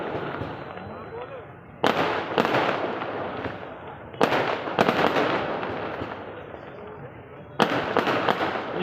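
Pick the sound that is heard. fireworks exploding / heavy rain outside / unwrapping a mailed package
fireworks exploding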